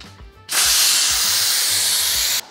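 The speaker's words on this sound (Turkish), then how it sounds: "10 dakika geçti, altını kapatalım ve buharı çıkartalım." Steam bursts from a pressure cooker's valve after apples are cooked, a loud, close, continuous hiss that starts abruptly and holds for about two seconds before stopping.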